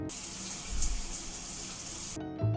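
Shower water running steadily in the bathroom of a Disney cruise ship cabin, a close, continuous hiss of moderate-pressure spray that cuts off abruptly near the end.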